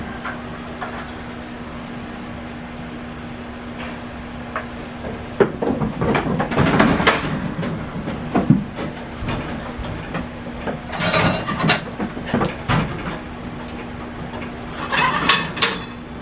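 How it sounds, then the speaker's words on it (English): A Simple Pulse milking machine runs on a small farm's goat milk stand, making a steady low mechanical hum. Intermittent bursts of clattering knocks and clicks come through the hum at irregular intervals. "we milk our 9 goats with our new simple pulse machine behind us, so y'all can see it in action"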